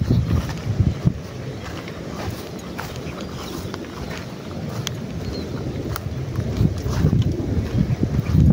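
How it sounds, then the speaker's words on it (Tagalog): Steady wind gusts over an open grassy field of dry, sun-scorched grass, roaring as loud broadband buffeting against the microphone throughout, with no voices. "Hangin lang talaga."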